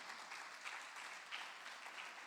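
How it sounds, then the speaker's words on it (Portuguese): A congregation in a church service applauding, a faint steady wash of many hands clapping together in pulsing swells, with no speech over it. "As palmas para Ele."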